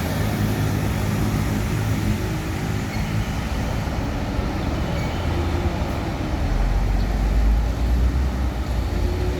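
A bus speeds along a road toward Bogor and Bandung, a dense, steady roar of engine and wind with deep rumbling underneath that swells slightly near the end, heard continuously from close by.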